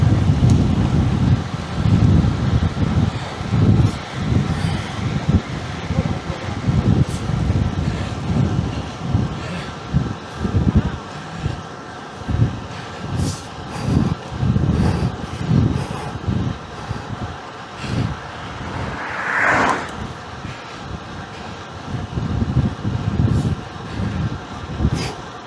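Headwind buffets the microphone of a cyclist riding at around 38 km/h, a loud continuous rumbling gusty roar with no talking.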